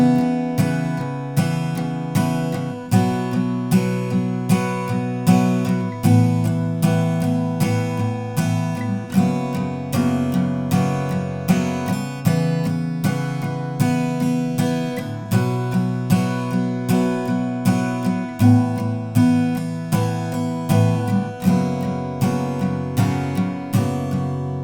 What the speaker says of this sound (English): So chorus 2 will sound like this.